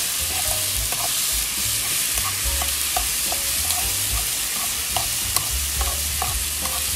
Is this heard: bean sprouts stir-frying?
yes